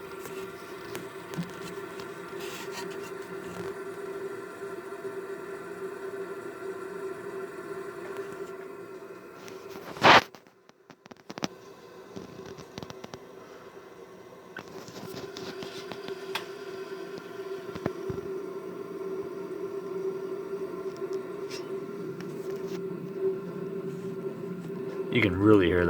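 An installed home air conditioning unit runs after starting up, giving a steady, droning mechanical hum with a low tonal buzz. It briefly cuts out near the middle, then settles back into a continuous whir.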